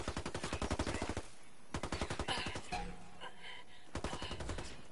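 Rapid bursts of automatic gunfire from the video game Ghost Recon rattle in several loud volleys, broken by short pauses and some quieter shots.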